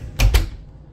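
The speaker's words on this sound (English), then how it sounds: "Shut the door" A door is shut indoors with two quick, close knocks in a row, the slam followed at once by the latch catching, then a short fade into quiet room tone.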